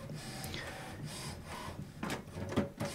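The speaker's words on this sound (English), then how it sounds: "you see now the printer is turning finally on" An HP Smart Tank printer powering on gives quiet whirring and mechanical clicks, with a few short louder clunks toward the end, heard close and alone.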